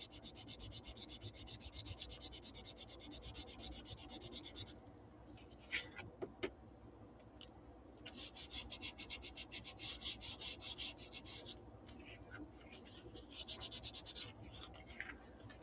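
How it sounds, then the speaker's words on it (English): Steady rubbing and scratching as pink material is worked smooth by hand, a dry raspy friction in long bursts with a short pause midway, close and fairly quiet with no talking. "Pink doesn't want to smooth out very nicely. There we go. I just wasn't rubbing hard enough."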